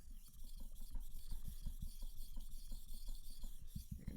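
A knife is sharpened on Suehiro and DMT whetstones, giving a rhythmic rasping scrape in repeated strokes, close and fairly quiet, with no talking.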